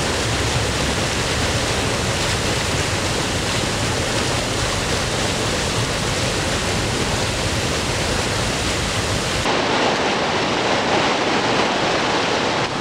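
Steady, dense roar of rushing water from a waterfall on a river or stream, loud and continuous with no voices, its tone shifting slightly brighter near the end.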